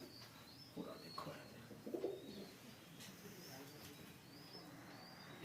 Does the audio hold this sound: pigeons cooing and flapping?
yes